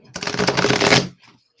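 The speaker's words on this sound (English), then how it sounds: "So this is pretty decent shuffling." A slippery tarot card deck is riffle-shuffled in one quick, dense burst of crisp flapping card noise lasting about a second, close and loud, then settling into quiet.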